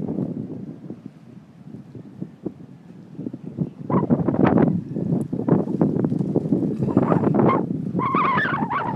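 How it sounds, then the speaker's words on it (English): Gusty wind buffets a microphone outdoors on Moorea, a low rumbling roar that rises and falls in strong bursts, growing louder partway through and continuing without talk. "Hopefully the wind will die down."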